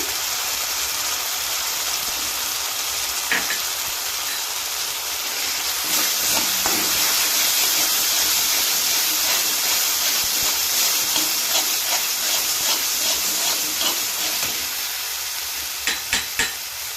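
Spices with red chilli powder frying in oil for a Bengali yogurt okra curry, a steady close sizzle and hiss throughout with a few stirring scrapes, no talk.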